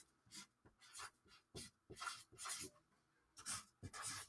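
Marker or chalk strokes scratch and rub on a board in short bursts, close and fairly quiet, with brief pauses between the written words.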